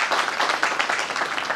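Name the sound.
audience applause welcoming a member of parliament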